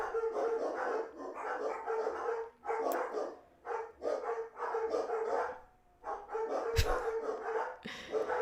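Several dogs bark excitedly in rapid overlapping volleys with yips mixed in, fairly close and continuous with brief pauses, alongside a sharp knock or two.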